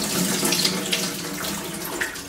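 Tap water runs steadily into a film developing tank, a constant rushing splash heard alone at moderate level.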